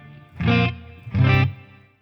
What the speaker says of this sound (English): as you can hear, I've got a little bit of reverb coming from this matchless emulation